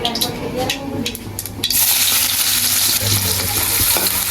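Chopped onion tipped into hot oil already holding mustard seeds and cumin, a loud close sizzle that surges up and holds steady, preceded by a few spoon stirs and pan clinks.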